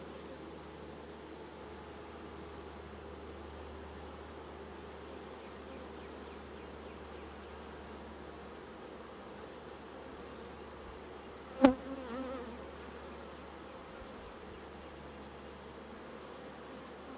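Honeybees from a swarm buzzing around an open hive during an inspection three days after capture, a continuous low droning hum with one sharp knock partway through.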